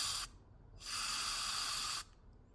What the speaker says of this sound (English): But I'm going to spray it in